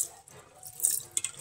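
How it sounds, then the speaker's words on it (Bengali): Water is poured to wash a tulsi plant deity figure, giving brief close splashes and trickling drips over about a second and a half. "এই যে আমি প্রথমে তুলসী মহারানীকে ধুয়ে নিব"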